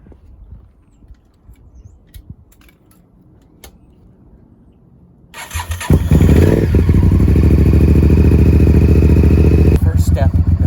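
A motorcycle engine is started after some quiet handling noises, then idles with a loud, close, steady throbbing rumble that keeps running to the end.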